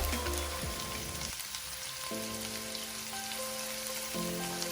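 Onions with salt sautéing in a pan for paneer mutter masala, a faint steady sizzle with a low background hum, no talking.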